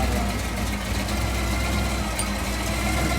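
A bagged 1955 Chevy truck idles with a Delta Flow 40 series Flowmaster exhaust, giving a steady, deep, throaty rumble that holds even and fairly loud throughout, with no talking.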